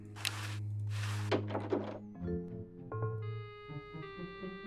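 A door opens in the point-and-click adventure game Day of the Tentacle Remastered, a pair of soft thunks and creaks followed by a tonal, chime-like game cue, close and clear with no talk.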